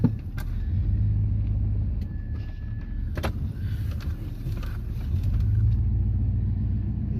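A truck climbs from steep ground up onto a road in a steady low engine rumble, with scattered clunks and rattles from the cab and a brief whirr partway through.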